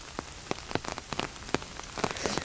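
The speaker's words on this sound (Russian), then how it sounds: "Ливень продолжается, сильнейший." Heavy rain pounding down in a forest during a downpour, with close, irregular drops spattering onto surfaces over a steady wash of rain.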